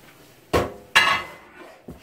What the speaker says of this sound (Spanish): Yo creo que sí voy a pasar esto a una fridera más grande porque no me gusta esta fridera